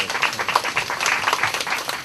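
An audience at a Democratic Party leadership meeting applauds party leaders, a short burst of dense, steady clapping filling the room.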